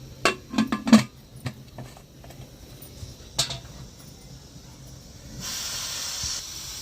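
A pressure cooker with mutton for Andhra-style gongura mutton curry lets out a steady, close hiss of steam near the end, after a few sharp clicks and knocks in an otherwise quiet kitchen.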